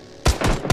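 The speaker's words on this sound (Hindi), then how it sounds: "ये कौन गोली चला।" Gunfire in the PUBG Lite online battle royale game: three loud, sharp shots in quick succession, each a hard broadband crack, with no talking over them.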